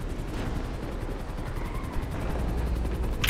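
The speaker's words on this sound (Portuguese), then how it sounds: "Ih, chegou dois helicópteros." Police helicopters circle overhead in GTA 5 roleplay gameplay, a loud, steady rhythmic rotor chopping that pulses evenly throughout with no voices.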